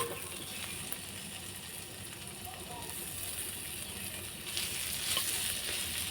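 Sliced snake gourd fries in a pan with a steady, even sizzle that stays moderately loud for several seconds.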